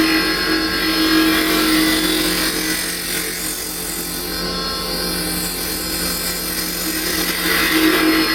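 A wood lathe turns a hollowed wooden bird house with a carbide tool shaping it, making a continuous loud, dense whirring hum with steady cutting noise throughout, close up and without talk.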